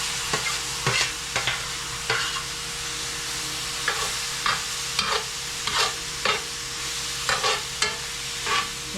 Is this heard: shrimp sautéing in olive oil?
yes